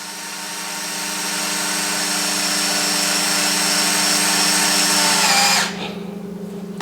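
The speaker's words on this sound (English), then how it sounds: "Take your hex and screw it back in." A power hex driver runs a bolt back into an aluminum lower trailing arm mount on a Super Rock Rey, whirring loudly and steadily for about five seconds, then cutting off abruptly.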